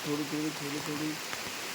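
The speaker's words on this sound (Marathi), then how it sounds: "पाऊस आलाय, छत्री उघडली इकडे." Rain falls over a large forest while someone stands under an open umbrella. It makes a dense, steady hiss close by, and a voice-like tone hums underneath.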